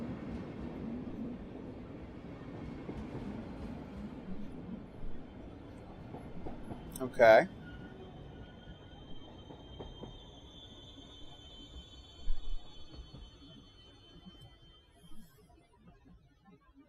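Subway train wheels squeal sharply in a brief burst over a steady low rumble of rail cars in the opening of the video game Fugue in Void, with a second fainter screech later and a short spoken word.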